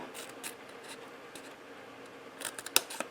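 Scissors cut paper up close, soft snips and rustling through the first part, then a handful of sharper, quick closing snips near the end, quiet with no talking.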